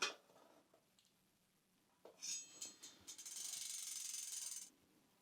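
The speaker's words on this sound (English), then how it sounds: "I'm going to try and straighten this rotor" Metal clicks and scrapes as a bicycle disc brake rotor is bent straight with a Crank Brothers multi-tool, a few faint taps and then a sustained raspy grinding scrape near the end, close up with no voices.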